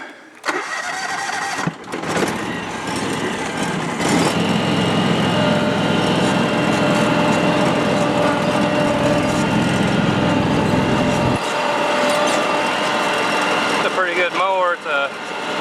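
A riding lawn mower with a 62-inch deck and all-wheel steer cranks, fires up and runs loud and steady nearby, then its tone shifts toward the end while someone talks over it.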